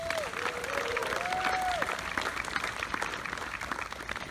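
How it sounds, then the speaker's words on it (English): Audience applause fills a concert venue for a military jazz band's lead trumpet player, a steady wash of clapping at moderate distance with faint cheers, while a brief sliding note and some talk sit underneath. "please give a round of applause for our outstanding lead trumpet player"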